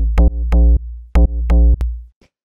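A deep house bassline built in FL Studio, a sine sub layered with a mid bass, plays alone as loud, clean sustained notes in a short syncopated rhythm before ending in silence.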